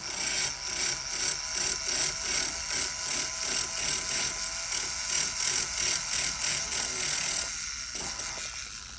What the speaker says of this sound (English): now let's switch to a smaller grinder